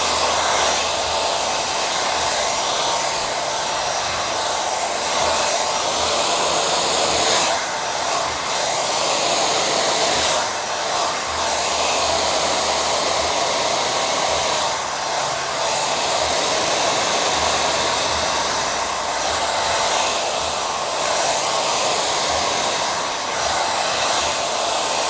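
Hair dryer blowing hair during a salon straight blow-dry, a loud, steady close-up whoosh with brief dips and shifts in tone as the dryer moves.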